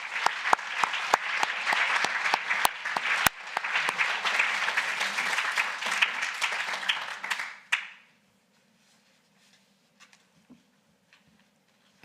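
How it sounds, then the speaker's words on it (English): Audience at a translation prize ceremony applauding, a dense sustained clapping of a seated crowd for several seconds that stops abruptly, leaving near silence with a few faint scattered sounds. "Round of applause."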